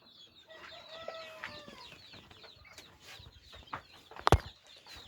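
Silver Cochin chickens cluck and chatter in a run, a busy mix of soft near calls and squawks over quiet background, ending with a sharp loud knock.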